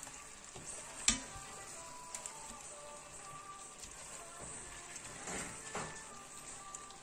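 Bolognese sauce being stirred in a pot as it simmers, a faint continuous bubbling sizzle with occasional spoon knocks against the pot, quiet and close, no talking.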